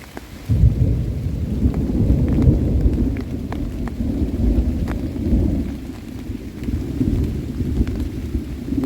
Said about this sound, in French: Il pleut quand même, là.